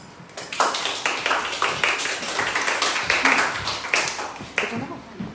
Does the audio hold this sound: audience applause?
yes